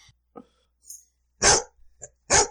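Dogs bark in two loud, sharp bursts about a second apart, with quieter yips and snippets of voices between them.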